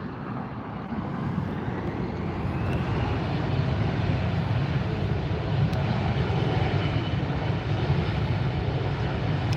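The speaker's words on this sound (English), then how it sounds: "Air France coming up, north side departure." An Air France airliner departs from the north side runways at LAX, its jet engine roar building into a broad, steady rumble that stays loud and sustained throughout at moderate distance.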